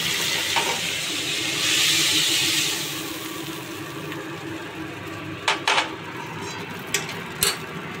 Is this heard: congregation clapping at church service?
no